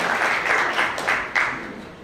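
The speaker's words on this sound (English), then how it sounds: "So give a big hand of, applause to your children for bringing you all here" Audience at a Children's Day event gives a brief burst of applause, moderately loud clapping for about two seconds, with a voice briefly audible within it.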